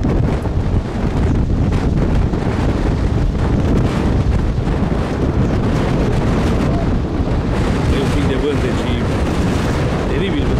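Wind blowing outdoors at a horse showing in Hațeg, Hunedoara, heavy buffeting gusts hitting the microphone as a loud continuous rumble.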